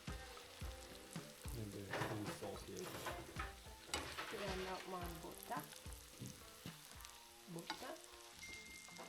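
Onions caramelizing in butter on an outdoor kitchen stove in rural Portugal, with a steady dense sizzle and crackle running throughout, close and continuous with small popping bursts.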